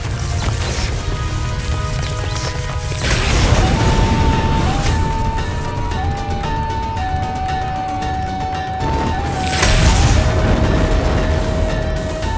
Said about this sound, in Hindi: ये विस्फोट